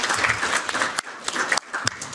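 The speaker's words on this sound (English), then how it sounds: "There is huge applause" Applause breaks out at a conference talk on Russian colonialism, a loud close patter of many hands that stops and restarts in short bursts.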